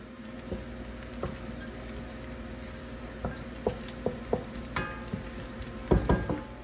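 Fresh garlic sizzling in hot achote oil in a pot for Puerto Rican arroz con gandules, a steady fry with several sharp crackles and utensil clinks building toward the end.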